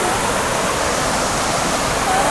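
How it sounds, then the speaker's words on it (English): Tumalog Falls in Cebu, a waterfall close by, pours down in a steady, dense wash of broadband rushing water that stays even and loud from start to finish, with no voices. "Wow, the waterfall is just right there."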